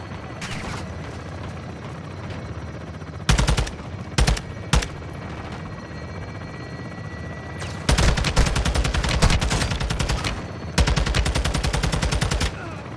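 A helicopter gun run in Call of Duty: Modern Warfare II, with loud bursts of rapid automatic fire in several long strings and short shots over a constant rotor drone, and no talking.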